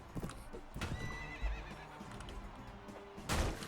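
A horse neighs loudly in the medieval battle game Mount and Blade: Warband, with hoof clip-clop and battle clatter around it and a second whinny near the end.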